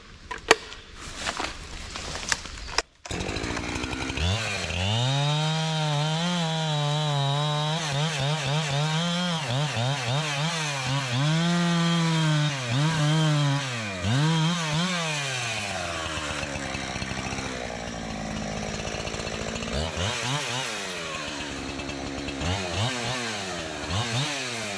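A chainsaw lops a limb from a soft hardwood tree, similar to basswood, on a draft-horse logging job for firewood; after a few sputters the engine roars loudly and close, its pitch rising and falling as it bogs through the cut.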